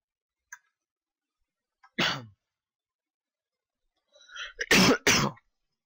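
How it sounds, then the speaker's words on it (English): A short throat-clearing burst, a pause, then a harsh double cough up close in an otherwise quiet room. "that cough took out everything in me"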